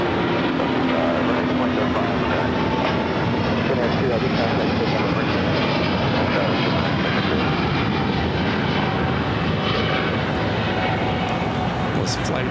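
Airbus A350-900 taxiing to runway 25 right at LAX, a steady, loud jet engine roar that stays broad and constant throughout, with radio chatter faintly underneath.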